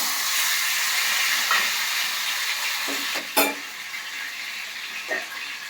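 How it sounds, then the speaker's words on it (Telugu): Grated raw mango sizzles in hot oil in a pan, a steady loud hiss and crackle with a few brief clinks of stirring, no voices. "ఇప్పుడు మామిడికాయ తురుము కూడా కొంచెం మనకి వేడవ్వాలన్నమాట"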